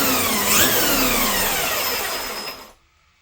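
An electric motor in a 12S monster RC car whines under throttle, a loud high-pitched spin whose tone sweeps and then drops away as it cuts off abruptly near the end, with no talk.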